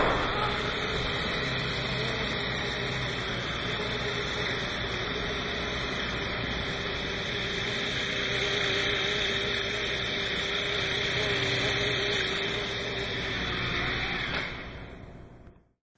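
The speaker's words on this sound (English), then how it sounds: "the sound you just heard is a sound of a new kind of flying vehicle called a cyclocopter" Cyclocopter, a flying vehicle with spinning paddle-wheel blades, giving a steady, loud, broadband whirring roar with a constant high whine above it, held evenly throughout and then quickly cutting off at the end.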